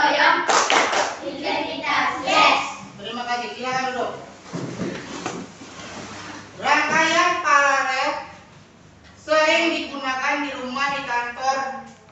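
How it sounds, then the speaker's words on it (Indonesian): Schoolchildren in a classroom performing a chanted clapping routine, bursts of rhythmic hand claps alternating with group chanting voices, loud and close, with brief pauses between phrases. "Sebelum duduk, tepuk PPK dulu 1 kali."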